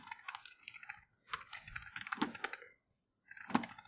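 Quick bursts of key clicks as a password is typed on a computer keyboard during a software installation, close and crisp with short pauses between runs.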